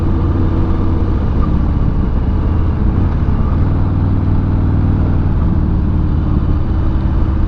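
A 2020 Harley-Davidson Fat Bob motorcycle on the move, its engine a steady, loud, low rumble that holds the whole time without a break.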